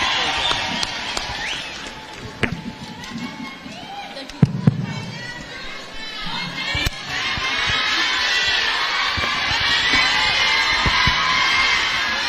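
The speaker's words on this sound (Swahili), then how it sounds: "naomba msimame tumkaribishe our next president kwa kishindo na vigelegele" A crowd at a Muslim women's conference at KICC cheers and ululates to welcome Raila Odinga. Scattered claps and bangs build into a loud, sustained roar of voices, with some talk mixed in.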